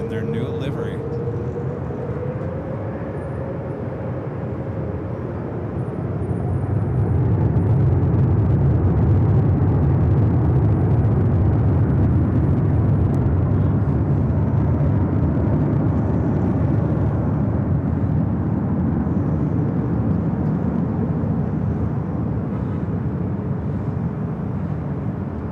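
A Korean Air Airbus A380 in new livery taking off from runway 24 left: a deep jet roar swells after a few seconds and stays heavy and sustained, with a voice talking over the opening.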